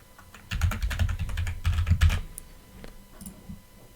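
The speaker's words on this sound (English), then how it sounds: "I'll type the correct password" Close, crisp keyboard typing in two quick bursts, rapid clicking keystrokes entering a password on a computer keyboard, followed by a few scattered soft taps in a quiet room.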